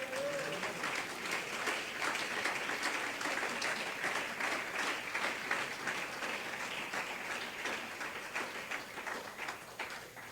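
A church congregation applauds during a Spanish-language sermon, a dense, sustained wash of many hands clapping that fills the whole stretch at steady loudness, with a faint voice briefly audible near the start.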